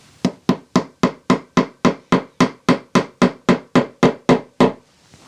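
Seventeen sharp, evenly spaced hammer blows ring out close by, driving a nut into a hole squared out with a drill press, in a steady rhythm of about three strikes a second, with no talking.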